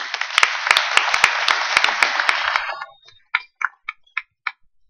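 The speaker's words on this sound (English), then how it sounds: "Neil Johnson, give him a round of applause" Audience applause at a 2013 poker tournament directors' summit, a dense burst of clapping that fades after about three seconds into a few scattered, isolated claps.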